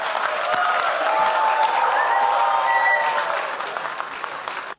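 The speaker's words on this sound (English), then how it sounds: "may I request you to welcome with a loud round of applause for Sophia" A crowded hall at a TiE Chandigarh event breaks into sustained loud applause to welcome a speaker on stage, steady clapping with a few faint whistles that tapers off toward the end.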